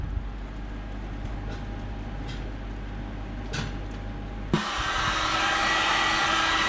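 A heating tool starts up and blows a loud, steady whoosh of hot air over the surface of orthotic material. Before it, a quiet mechanical hum and a few soft clicks can be heard.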